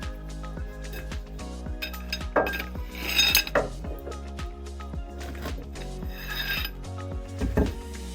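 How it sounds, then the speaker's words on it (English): A 24mm socket wrench works the drain plug on a Toyota G52 manual transaxle, giving close metallic ratcheting clicks and clinks in an irregular rhythm with a few louder knocks, no talking. "Use a 24mm socket wrench to remove the manual transmission drain plug."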